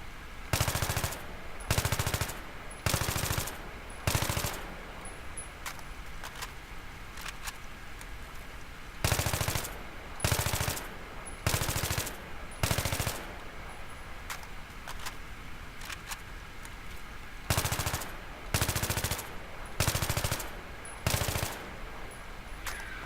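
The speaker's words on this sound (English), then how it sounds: "here shooting long range, and I'm going to shoot in around 5 to 8 round bursts" AEK-971 assault rifle in Battlefield 3 firing at long range in a steady series of rapid bursts of several rounds each, loud and sharp, with brief pauses between bursts.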